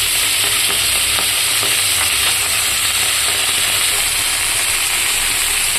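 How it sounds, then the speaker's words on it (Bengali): Pabda fish fry in a small amount of oil with a steady, dense sizzle and hiss that fills the whole stretch at close range, with no voices. "পাবদা মাছগুলো বেশি লাল করবো না"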